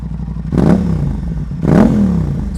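Aprilia RS660 motorcycle fitted with a titanium full exhaust, revved twice up close, each blip a loud barking rise that drops back to a rumbling idle.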